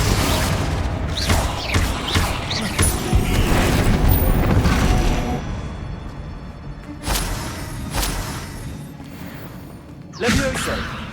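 In Hogwarts Legacy combat, the Confringo fire spell explodes as part of a dense stretch of low booms and whooshing impacts, loud at first and then thinning into sharper separate hits, with shouted incantations over the fighting.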